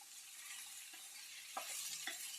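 Cauliflower pieces being stirred in a hot frying pan for a cauliflower, meal maker and cashew fry, with a steady sizzle and a few soft scraping clinks of a utensil against the pan.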